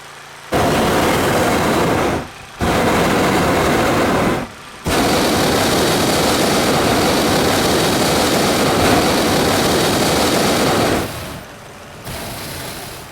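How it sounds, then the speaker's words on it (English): Powerful blower fan roaring steadily as it inflates a hot air balloon envelope lying on the ground, a loud broadband engine-like rush broken by two brief dips early on and easing off near the end. "our balloon has to be filled with air with a blower that fills it out as a cold air balloon"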